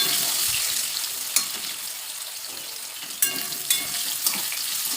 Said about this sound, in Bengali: আলুটা আমি হালকা সামান্য লাল লাল করে ভাজবো।